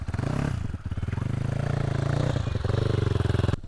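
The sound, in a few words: motorcycle being ridden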